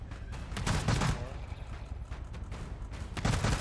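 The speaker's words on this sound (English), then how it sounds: "I'm just shooting at a triangle." Gunfire in the GTFO video game, rapid bursts of shots rattling continuously at moderate loudness through the whole stretch.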